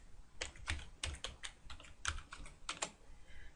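Fingers type on a computer keyboard, a quiet, close series of irregular key clicks in short bursts with brief pauses.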